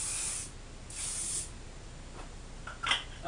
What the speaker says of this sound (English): I've been just very lightly spraying a little bit of hairspray.